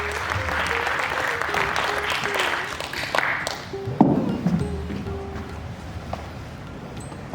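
An audience in a theatre at a Hindi stage-play festival in Patna applauds after the play Masterni Sahiba; dense, steady clapping fills the hall, with a tonal hum and a few louder knocks beneath.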